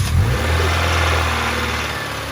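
A 1999 Honda CR-V engine with a B20, on its first startup after overheating and oil leak repairs, idling loudly and steadily right up close, with a low, even rumble that barely changes.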